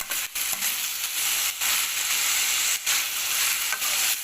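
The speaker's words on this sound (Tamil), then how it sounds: "தக்காளி நல்லா வதங்கட்டும்" Tomatoes and onions saute in a pan for a drumstick kara kuzhambu gravy, giving a loud, continuous sizzling hiss with a few brief dips as the pan is stirred. No one speaks.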